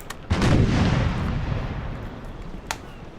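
A loud ship cannon broadside in a naval battle video game, a booming volley of overlapping blasts that rolls and fades over a few seconds, with a final sharp crack near the end.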